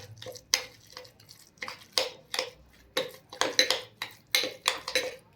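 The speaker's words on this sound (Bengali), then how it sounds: "সমস্ত উপকরণগুলো আমি ভালোভাবে মিশিয়ে নেব" Chhana being mixed by hand with spices and kalo jeere in a bowl, giving a run of close, uneven scraping and clinking knocks with short gaps and no talk.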